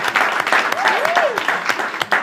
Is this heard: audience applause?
yes